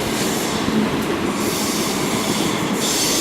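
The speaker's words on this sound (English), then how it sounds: "Arriving in is going to be the 1 Yankee 20, the 1434 Greater Anglia service to Ipswich, forward of 2 of their 321 units" A pair of Greater Anglia Class 321 electric units rolling into Chelmsford station, a continuous loud rumble of wheels on rail with squealing and rhythmic clatter, close by and without talking.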